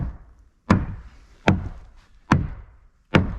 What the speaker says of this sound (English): I'm gonna put my foot on this board, I'm gonna tap this in place.